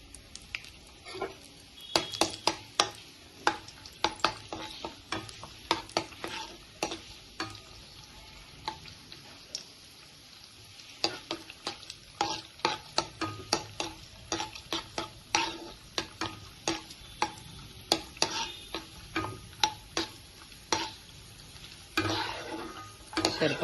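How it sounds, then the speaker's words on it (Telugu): Cashew nuts frying in hot oil make a soft sizzle under rapid, irregular clicks and taps as a spoon stirs them around the pan, close and fairly quiet, with no talking. "దీనిలో కొంచెం జీడిపప్పు ఫ్రై చేసుకుందాం."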